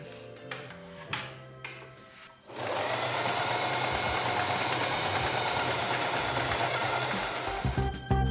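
A sewing machine stitching a dress, running steadily and close for several seconds after a few soft clicks and handling sounds.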